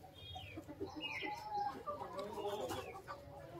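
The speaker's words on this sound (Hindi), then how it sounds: "हमारी मुर्गियों ने अंडे दे दिए हैं, मुर्गी अंडे दे के चली गई है।" Hens cluck softly nearby in short, uneven bursts after laying eggs, a low farmyard murmur with no talking.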